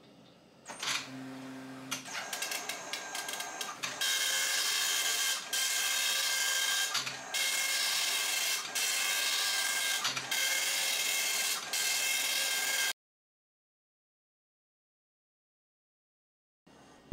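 A printer driven by a 386 computer running Windows 3.1 prints steadily for about twelve seconds, with a loud mechanical whir and repeated head passes and pauses. Silence follows.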